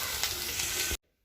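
Sliced onions sizzling in hot coconut oil in a pan, a dense, bright crackle lasting about a second before cutting off abruptly to near silence.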